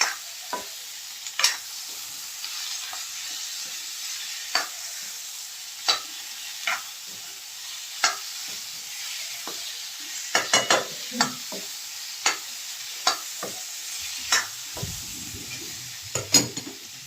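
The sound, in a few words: stirring cauliflower into spiced masala in a frying pan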